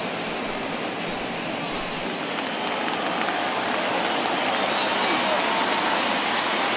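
A big stadium crowd of over 39,000 roars on its feet in MLB The Show 21, Texas Rangers against Houston Astros in the ninth inning. The loud, dense, continuous roar swells slightly as it goes on.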